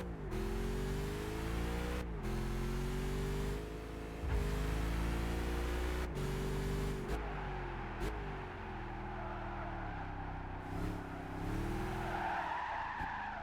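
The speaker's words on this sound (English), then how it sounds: "Listen to that engine." A car engine in the Gran Turismo 5 racing game revs loudly and steadily, its pitch climbing and dropping through gear shifts, with tire squeal rising toward the end and no speech.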